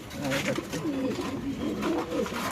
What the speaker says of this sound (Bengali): কবুতর কিন্তু ভাই হাই কোয়ালিটির কবুতর